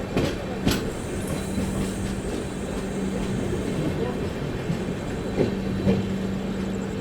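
The Brahmaputra Mail, running from Kamakhya toward Delhi, moves through Prayagraj Junction with a steady, close rumble of rolling wheels and occasional clanks and knocks, while faint station voices blend underneath.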